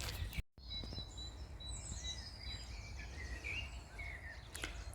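Faint birds chirp and sing in the distance over a soft outdoor hum in a park in Germany, with a brief thud near the start.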